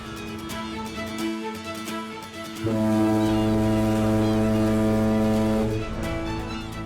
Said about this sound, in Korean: 백고동 소리가 부산항의 어둠을 깨웁니다.